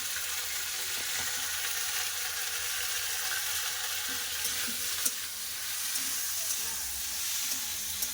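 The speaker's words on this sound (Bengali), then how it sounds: "সিমটা ভালো করে ভেজে নেবো দিয়ে দেবো লবণ একটু হলুদ দিয়ে দেবো" Flat beans with neem flowers fry in a pan with salt and turmeric, giving a loud, continuous hissing sizzle that stays steady throughout, with a few faint stirring knocks and no voices.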